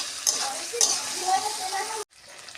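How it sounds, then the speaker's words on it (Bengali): Fried moong dal and salt are stirred in a hot pan, giving a continuous sizzle with repeated scraping strokes of the spatula before the sound cuts off abruptly. "এবার একটু ভালো করে নাড়ো চাড়ো"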